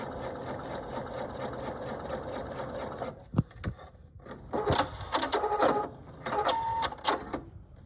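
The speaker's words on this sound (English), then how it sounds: "you line up your fabric to the very side, right underneath that, and you just keep sewing as you go forward" A domestic sewing machine running steadily as it stitches fabric under a quarter-inch seam foot, a loud even whir that stops and gives way to clicks and clunks of the machine being handled.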